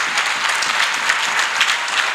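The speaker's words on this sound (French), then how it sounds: "Que cela se lève et acclame Jésus." A church congregation at a Benin gathering applauds and acclaims Jesus, a dense, steady wash of clapping from many hands throughout.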